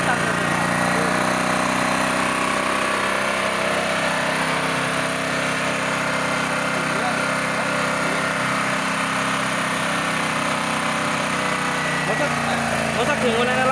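A homemade generator engine fed by LPG through a carburetor runs steadily with a constant, fairly loud drone that barely changes, and voices talk faintly beneath it.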